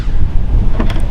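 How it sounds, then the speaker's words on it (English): Wind gusts outdoors at an allotment garden plot, a loud, blustery rumble buffeting close against the microphone for a brief moment, with no speech. "Oh, it's gusting. It's gusting."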